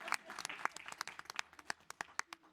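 Faint, scattered clapping from a small crowd, uneven and sustained for a couple of seconds, heard from a distance.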